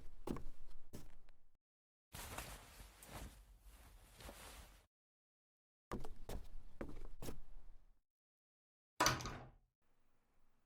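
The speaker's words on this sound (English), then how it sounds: "Close the door behind you. You don't want to let the heat out." A sauna door in a Genshin Impact spa scene opens and closes in a few separated bursts of rustling and thudding, ending with a sharp, loud clunk. No one speaks.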